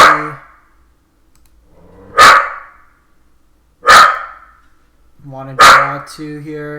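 A dog barks indoors, loud and close: three sharp single barks spaced well apart, the last trailing into a higher whining yelp, with someone talking faintly beneath.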